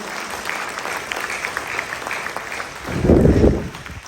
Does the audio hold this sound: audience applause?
yes